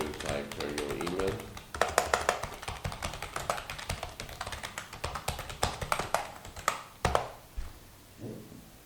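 Keys on a computer keyboard tap out an email in quick, uneven bursts of close clicks, mixed with a person talking through much of the stretch.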